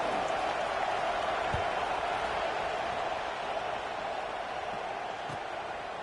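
A football stadium crowd roars steadily at kickoff, a dense, sustained wash of cheering and applause from many voices at a distance.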